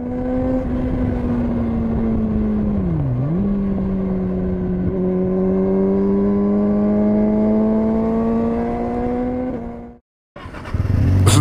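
A 2019 Kawasaki ZX-6R motorcycle rides along with a steady close engine hum, dipping briefly as the rider shifts, then climbing slowly through the revs before a sudden drop and renewed engine noise.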